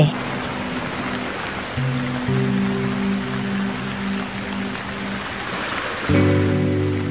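Steady hiss of rain falling in a Bangla Thakumar Jhuli cartoon, continuous throughout with sustained musical tones over it that swell near the end.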